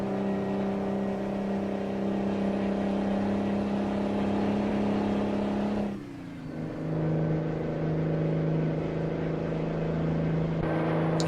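Truck engine idling steadily in a trucking simulator game, a constant low droning hum with a brief drop partway through before settling back to a steady tone.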